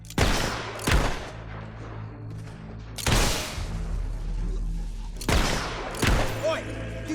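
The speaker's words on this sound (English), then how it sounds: "You keep shooting at me." Gunfire from the fantasy action game Fable 3, heard as four sharp shots spaced a second or two apart, loud and close, with low ambient hum between them.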